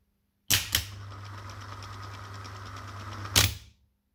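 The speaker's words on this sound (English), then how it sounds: "So you see the pinion coming out and the motor turning the pinion." A Volkswagen Passat start/stop starter motor on a bench test whirs steadily for about three seconds, opening and closing with sharp clacks as the pinion throws out and retracts, loud and close.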